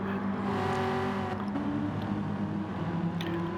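Pennzoil Chevy Corvette touring car racing on a track in a reverse grid touring car event, its engine roaring loud and steady throughout, with shifting pitch as it accelerates past.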